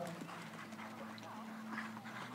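Faint hoofbeats of Icelandic horses at trot and canter patter rhythmically in the distance, set against a low steady hum and light background chatter.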